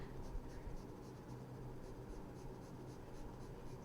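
Pencil strokes scratching steadily across sketching paper to build texture, a soft continuous rhythmic rasp, close and faint, with no voice.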